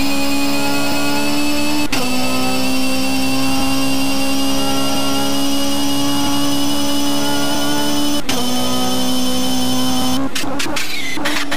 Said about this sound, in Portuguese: Vamos então agora fazer uma pequena visita à pista, dentro do carro do Hugo.